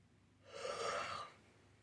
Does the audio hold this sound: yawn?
yes